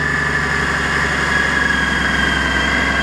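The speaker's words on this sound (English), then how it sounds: "It fired right up, John." A Honda trike's engine, just started after five years of sitting and a carburetor cleaning, idles steadily and loudly up close with a constant low rumble and whine.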